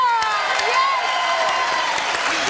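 Studio audience applauding on a French TV talk show, a steady dense wash of clapping with some cheering and voices mixed in throughout.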